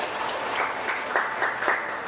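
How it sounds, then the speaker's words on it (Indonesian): Guests at a wedding choir contest in a church applauding, a continuous crowd clap with a few sharper hand claps standing out, moderately loud. "Tepuk tangan."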